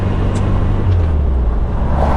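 A 1972 MG Midget engine cruising in fourth gear at about 35 mph and 2,200 rpm, a steady low drone heard from inside the small car with road noise.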